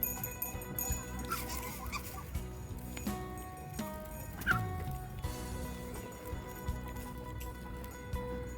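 Village fowl around a rural Bru tribal hamlet in the evening, with chickens clucking intermittently amid a busy, layered background of animal calls and ambient noise; a dog may bark briefly.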